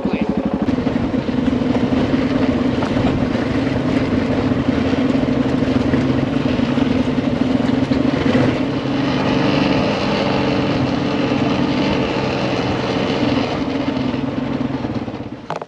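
Kawasaki KLR650 motorcycle riding off-road through the Flinders Ranges in Australia, a steady, loud engine drone holding constant for the whole stretch with wind and rumble mixed in and no clear voices.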